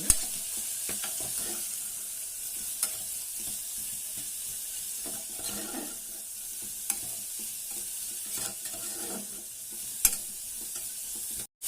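Chopped green beans fry in a pan after mustard seeds, giving a constant bright sizzle with occasional soft stirring scrapes and a couple of sharp clicks, close by with no talking.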